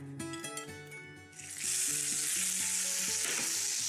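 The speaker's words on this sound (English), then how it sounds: "Put some olive oil into a pan and turn up the heat. Put the steak in, seasoning side down." A steak hits hot olive oil in a pan and bursts into a loud, steady sizzle that carries on to the end, following a short stretch of tonal music at the start.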